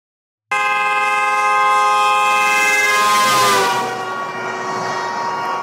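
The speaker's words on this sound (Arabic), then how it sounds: "خلونا نسمع صوت السيارة يوم تمر من عدالنا وتكون مهرنة" A car horn blares loudly as the vehicle passes close by on a road, a sustained tone that starts abruptly, then bends down in pitch as it goes past and keeps sounding at a slightly lower level.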